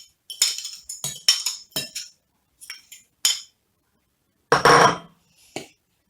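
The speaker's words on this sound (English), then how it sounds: "in a separate bowl, I cream brown sugar and melted butter. And I also used the fork for that" Fork working brown sugar and melted butter in a bowl, a run of sharp clinks and scrapes against the bowl in irregular bursts, close and alone with silent gaps between strokes.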